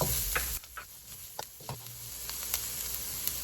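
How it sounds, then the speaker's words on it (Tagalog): Onion sautés in a pan for Filipino sweet-style spaghetti, a steady, quiet sizzle broken by a few soft clicks of stirring, with no voices. "And saute the onion again until"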